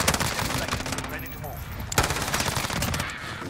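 FiNN LMG light machine gun fired in Modern Warfare: loud, continuous rapid automatic bursts with a brief pause near the middle before the fire resumes.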